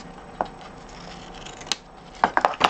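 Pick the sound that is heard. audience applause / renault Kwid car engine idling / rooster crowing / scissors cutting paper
scissors cutting paper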